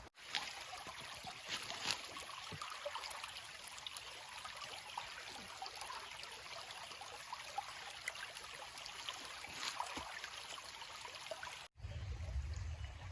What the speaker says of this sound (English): Let's filter some water.